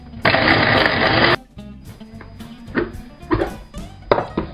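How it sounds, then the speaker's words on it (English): Food processor whizzing fresh parsley and thyme into breadcrumbs for cheesy stew dumplings: a loud, steady motor whir for about a second, then quieter clunks and rattles of the bowl and blade. "Then you're going to whiz these up until they resemble breadcrumbs."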